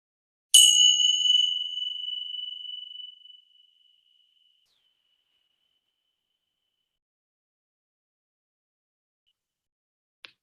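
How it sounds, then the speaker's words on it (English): A meditation bell rings once during a Zoom call, a clear bright strike whose pure tone fades slowly over about three seconds, followed by near silence and a faint tap at the very end. "when you hear the sound of the bell"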